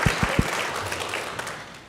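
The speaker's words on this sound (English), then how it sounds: "Yes, big applause." Audience applause at a synagogue cantor installation, opening with a few sharp individual claps and then settling into a soft, diffuse patter that gradually fades.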